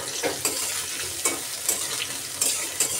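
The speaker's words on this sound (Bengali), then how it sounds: "বন্ধুরা আমি কড়াইতে তেল দিয়ে দিলাম, আমি পেঁয়াজটা আগে ভেজে নেব। পেঁয়াজটা দিয়ে দিলাম" Onions frying in oil in a wok, a continuous close sizzle with sharper crackles and stirring scrapes every half second or so, no voices.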